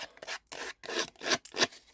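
Scissors blade scraped along the edges of a stamped paper sheet, five or six quick rasping strokes in an uneven rhythm, close and fairly loud with short silent gaps between, no talking.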